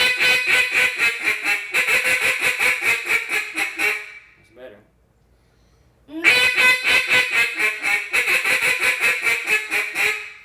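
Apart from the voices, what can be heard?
duck call being blown, calling practice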